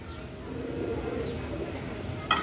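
Male Sialkoti pigeon cooing softly and steadily against low background noise, with a brief sharper sound near the end.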